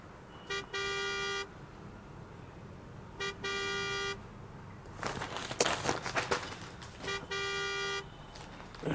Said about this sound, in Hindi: देखो तो अपनी कार आवाज कर रही है क्या?